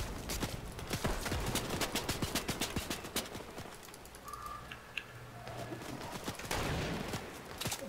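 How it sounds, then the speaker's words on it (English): Gunfire in a Fortnite battle, with sniping from a high spot: rapid volleys of sharp cracks, fairly faint and set back, coming in dense bursts across the whole stretch with brief lulls. "Now they're sniping."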